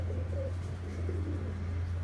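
Pet pigeons of an original breed cooing softly and continuously at close range, a low steady murmur with no talking.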